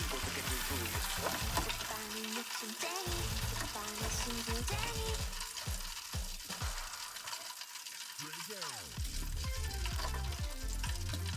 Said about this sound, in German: Im Topf oder der Fritteuse auf 170 Grad 8 bis 10 Minuten fertig frittieren.